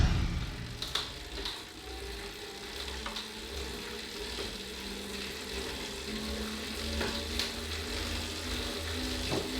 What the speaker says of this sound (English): Most of the noise you are hearing is coming from my drivetrain